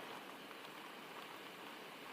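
Rain falling in a forest at night near a cabin, a steady soft hiss of countless drops with no breaks, gentle and even throughout with no voices.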